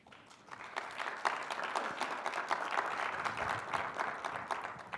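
Audience applause fills a hall at a digital health awards event, a steady wash of clapping from many hands that holds at an even level for several seconds, with no speech over it.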